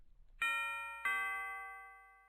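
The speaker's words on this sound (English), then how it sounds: "Then he got to Slug's house and rang the bell." Two bright ding-dong chimes from a doorbell ring out close and alone, the second strike starting about half a second after the first, each tone ringing on and slowly fading.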